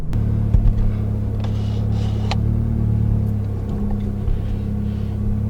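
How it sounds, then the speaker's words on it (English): A VW MK7 GTI with a South Bend Stage 2 clutch shows clutch chatter as a steady low drone and rumble inside the car, with faint intermittent rattles and clicks over it and no talking. "a clip that I recorded today of what the clutch sounds like with the clutch chatter"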